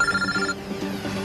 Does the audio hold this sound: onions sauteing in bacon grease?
no